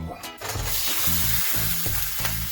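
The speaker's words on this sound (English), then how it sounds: "and the steak all pre-cooked to 130, we take it onto the grill." Pre-cooked steak searing on a hot grill gives a steady, loud, close sizzle that runs unbroken, with a few soft clanks and low thumps from handling. Nobody speaks.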